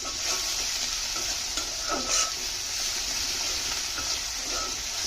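Onions being stir-fried in a pan for a potato and vegetable-stem fish curry, giving a steady close sizzle with soft scraping stirs throughout and no talking.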